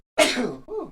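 One sharp, close sneeze bursts out abruptly after a moment of silence and trails off into a softer breathy exhale.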